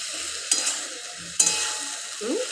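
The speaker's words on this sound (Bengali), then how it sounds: "এইবার আমি এটাকে কষতে থাকবো" Spices for a fish curry with drumsticks, potatoes and a little dried red chilli are stirred in a pan, giving soft scrapes and two sharper clinks of the spoon over a faint, low sizzle, with no voices.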